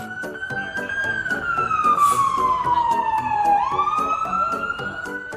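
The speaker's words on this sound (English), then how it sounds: "Sirens blaring, lights flashing, and the road is blocked by a stretch alignment." Fire truck siren wailing loud and close on a road blocked by a stretch limousine, one long continuous tone that sweeps slowly down in pitch and then rises again, with road traffic rumbling beneath it.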